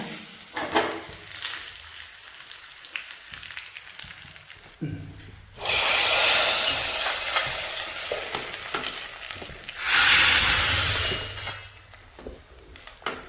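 Curry leaves dropped into hot oil with mustard seeds and dried red chillies for a Kerala dal and cucumber curry tempering: two loud, bursting surges of sizzling, with quieter crackle and stirring between them.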